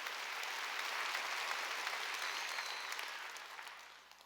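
A church congregation claps steadily together, a dense wash of applause that gradually fades out toward the end.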